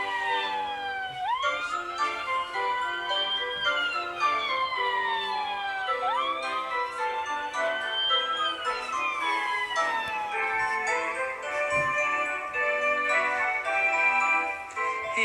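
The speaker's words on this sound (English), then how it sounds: "Daddy Pig was driving the ambulance today, and he went as fast as he could to the playground." A toy ambulance siren plays a repeating electronic wail that swoops up and slowly falls again, several cycles at a moderate, steady level close by.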